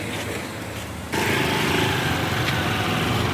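A small motorbike engine runs steadily close by while the bike is turned around on a town street, its buzzing note jumping louder about a second in and holding a busy, even drone to the end.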